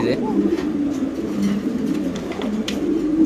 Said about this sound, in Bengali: আমরা একটু কবুতরের ডাকটা দেখানোর চেষ্টা করতেছি আপনাদের